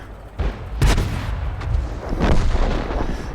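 Artillery fire from a Lorraine 39 destroys a tank during a tank-battle video game replay: a few heavy booming shots and blasts ring out over a continuous rumbling battle background, loud and close, with no talking.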